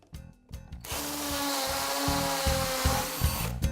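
A hammer drill drives steadily into a wall, whining and rattling close and loud for about three seconds after two brief starts, over a low rhythmic background.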